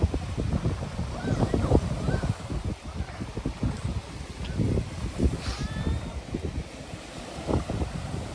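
Strong waves and gusting wind at Sandpiper Beach in St. Laurent, Manitoba, with irregular surf bursts and wind buffeting the microphone throughout, fairly close, while a voice speaks faintly in the background.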